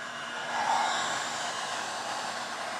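A heat gun blows a steady, close roar of hot air onto vinyl plank stair nosing to soften it for bending. It rises slightly at first, then holds level throughout, with no talking.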